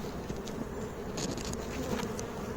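Honey bees buzz in a dense, steady swarm hum at an open beehive during an inspection, close and continuous, with faint clicks of handling beneath.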